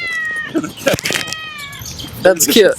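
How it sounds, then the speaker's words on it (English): A toy cat ball goes off outdoors in a park, letting out a few high electronic meows, with people talking close by between the calls. "Look, the cat ball's going off."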